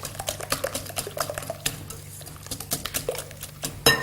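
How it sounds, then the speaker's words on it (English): Frittata ingredients mixed with Welsh laverbread in a bowl, a utensil scraping and clinking steadily against the bowl in quick repeated strokes, close and fairly quiet, with no talk. "So mix all those in."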